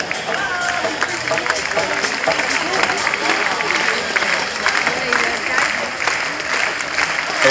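A crowd at a recortadores bullring event in Beaucaire applauds continuously, a dense, steady wash of clapping and hubbub with a public-address voice speaking over it throughout.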